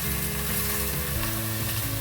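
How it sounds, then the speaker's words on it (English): Pieces of black chicken sizzle and fry in a little cooking oil in a saucepan, a steady close crackle with low stirring clunks throughout, no voices. "It's sizzling now."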